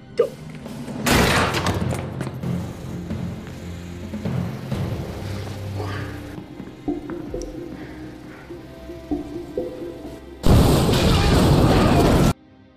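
Loud, broadband blasts and bangs from an explosion on the 16th floor of a building in a prison film, with a rumbling burst early on and another sustained roar near the end, mixed with scattered crashes.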